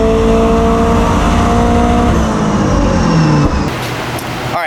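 A turbocharged Honda S2000 engine screams on a dyno in fourth gear, loud and close, its pitch sweeping upward through the pull before it cuts off abruptly near the end.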